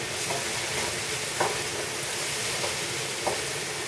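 Garden vegetables sauteing in a pan give a steady, dense sizzle and hiss throughout, with a few faint stirring clicks from a utensil and no talk.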